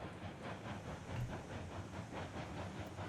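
A heavy freight train in Railroads Online rolls downhill, its steady wheel rumble and rhythmic clatter building under a constant hiss, with no voices over it.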